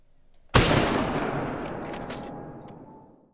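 Single rifle shot at a whitetail buck in the hunting game theHunter: Call of the Wild, a sharp loud crack followed by a long rolling echo that decays over about three seconds.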